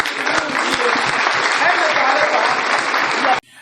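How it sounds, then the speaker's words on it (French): Audience applause at a Christian crusade gathering, dense steady clapping filling the hall for about three seconds before cutting off abruptly. "Applaudissons pour Jésus."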